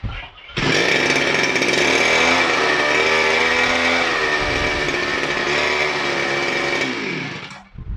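A grass cutter fitted with a chainsaw attachment, being test-run before shipping: the small two-stroke engine starts up and roars steadily at high revs close by for several seconds, then cuts off.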